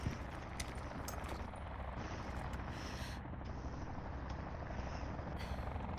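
Helicopter rotor drone in Call of Duty Blackout, a steady whirring chop that holds throughout at moderate level with no talk.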